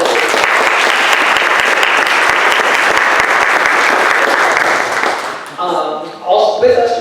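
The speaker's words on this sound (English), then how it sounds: "So a big round of applause for Jackie Smith." Loud, dense audience applause fills a room at a Black History Month event at a university, sustained and even before thinning into scattered claps as a voice begins speaking near the end.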